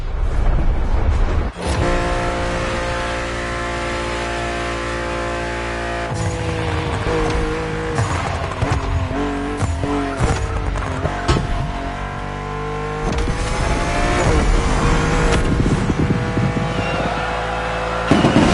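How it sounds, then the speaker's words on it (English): BMW M2 CS in a racing video game, engine roaring loudly through gear changes with revs rising and falling, tires squealing in bursts over a dense music-like engine bed. "That was BMW M2 CS, a legend in the making."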